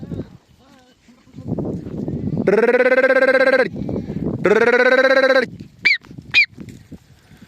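Thirsty sheep bleat loudly and close, two long harmonic cries followed by short higher calls, with someone speaking nearby between them.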